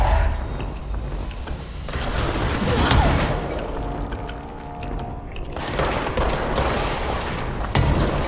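Gunshots in the video game Control boom in heavy, rolling volleys with loud impacts and rumbling echoes, ebbing in a quieter stretch before picking up again, close and forceful.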